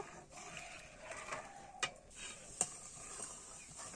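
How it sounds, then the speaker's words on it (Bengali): Sugar melts and comes to a boil in a pan for vermicelli payesh, giving a faint, steady bubbling sizzle broken by a couple of sharp clicks. "চিনিগুলো গলিয়ে নেবো ভালো করে ফুটিয়ে নেব"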